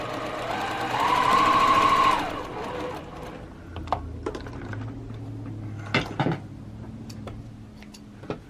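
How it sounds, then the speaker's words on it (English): A sewing machine stitches a row of quilt blocks together in one continuous burst of rapid whirring lasting about a second. Quieter handling clicks and taps follow in a calm room. "I'll just continue sewing this row"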